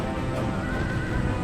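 Horses neigh and whinny in a battle of Total War Empire, a continuous loud, dense game soundscape with hoofbeats and a high whinny rising above the mix throughout a short burst.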